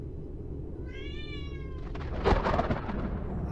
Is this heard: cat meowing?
yes